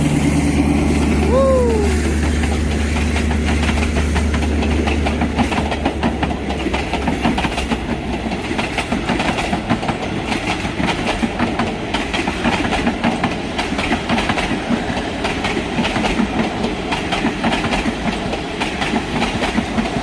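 An Alsthom diesel locomotive horn sounds briefly, then a Bangkok–Ban Phachi passenger train roars past loudly with rapid clickety-clack of wheels over the rails, continuing steadily, departing Bang Sue.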